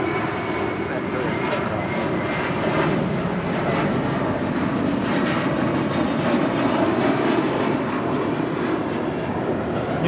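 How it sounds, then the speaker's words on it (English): JetBlue Airways Airbus A321 jet departing Los Angeles International Airport for Miami, a steady loud engine roar filling the whole stretch without letup. "This is JetBlue Airways 2885 departing to Miami, Florida on an A321"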